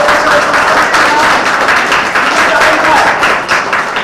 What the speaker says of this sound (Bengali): সবাই জোরে করতালি দিয়ে